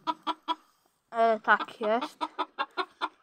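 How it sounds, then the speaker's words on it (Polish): A chicken in a backyard coop, cackling repeatedly as it is let out, gives a run of short, evenly spaced clucks broken by a drawn-out, strained squawk; someone says a couple of words partway through. "Tutaj mamy takiego czorta, który ciągle gdacze, jak go wypuścimy."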